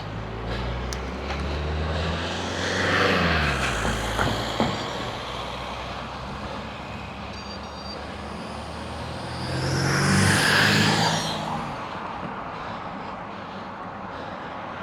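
Cars passing close by on a country road during a sunny morning bike ride near Cullompton and Tiverton, with two louder swells of passing traffic over steady wind and road rumble.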